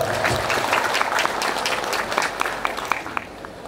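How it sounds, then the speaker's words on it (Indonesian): An audience at an Islamic boarding school (pesantren) sermon applauds the congregation, steady clapping from a crowd of many hands filling the whole stretch at close range, with a few sharper individual claps standing out near the end. "Tepuk tangan untuk para jamaah."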